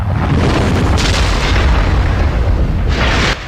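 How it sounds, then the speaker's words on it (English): A big fiery explosion in the Max Payne video game's ending, a loud, sustained low rumbling boom that fills the whole clip before cutting off sharply near the end. "And the big fiery explosion."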